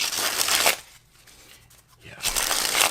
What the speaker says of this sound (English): Let me do one quick shuffle.